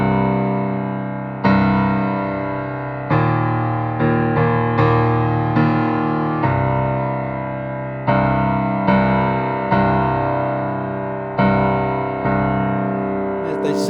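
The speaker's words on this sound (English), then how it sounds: "if I play the left hand and pedal, it'll look and sound like this" Left-hand piano part played with legato pedal, sustained low chords struck roughly every one and a half seconds, each swelling then decaying into the next, steady and loud with no talking.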